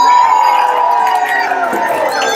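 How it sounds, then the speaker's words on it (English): An outdoor rally crowd outside a courthouse, many of them children, cheers and shouts loudly for the co-founder of 350 Eugene, a sustained roar of high-pitched voices and whoops. "Let's give her a round of applause."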